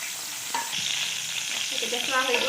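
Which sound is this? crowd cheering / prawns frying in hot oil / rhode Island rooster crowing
prawns frying in hot oil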